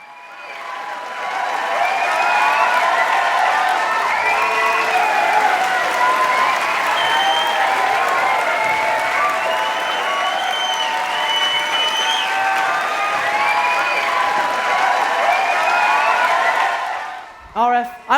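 Sustained applause from a large theatre audience at a curtain call, steady and loud, with scattered whoops and cheers rising over the clapping before it cuts off abruptly.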